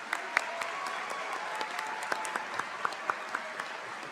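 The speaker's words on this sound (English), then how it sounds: "as we give you a round of applause" A high school graduation crowd claps steadily, with individual sharp claps standing out from the dense, sustained applause.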